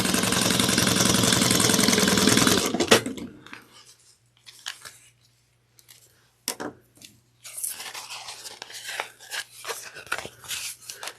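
A sewing machine stitches two fabric pieces for a drawstring satchel together, a loud, steady mechanical whir at first that stops abruptly, followed by scattered handling clicks, rustles and brief bursts of motor.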